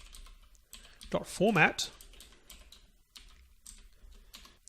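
Computer keyboard typing while entering code, a run of soft, quick key clicks interleaved with a man's speech, close and moderately quiet.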